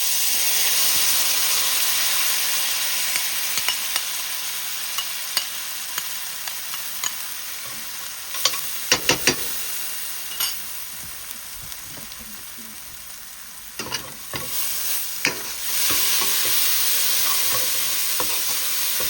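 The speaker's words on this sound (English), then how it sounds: "Because this is cooking with olive oil, so I don't want it overheated." Chicken liver fries in olive oil in a pan for a liver curry, a loud continuous hissing sizzle with scattered pops and occasional utensil clicks, easing midway before swelling again, with no talking.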